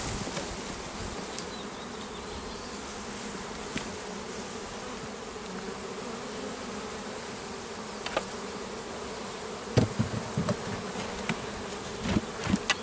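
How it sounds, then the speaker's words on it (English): Honey bees shaken from the bottom box of a hive at its entrance make a dense, continuous buzz of a swarm close by, with a few soft knocks and handling sounds toward the end. "Final thing is to shake the bees from the bottom box"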